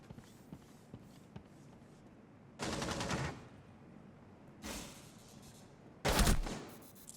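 Three short bursts of automatic gunfire in a Rainbow Six Siege hallway gunfight, fairly close, separated by quieter stretches with faint footsteps and background game noise.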